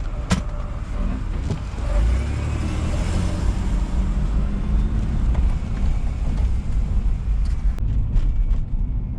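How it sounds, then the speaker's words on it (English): A right-hand-drive Chevrolet Blazer with a 4.3 V6 engine burbling on the road, a steady low rumble heard from inside the cabin with a few faint clicks and no talking. "Just listen to that burble."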